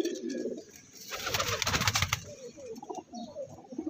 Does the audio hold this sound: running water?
no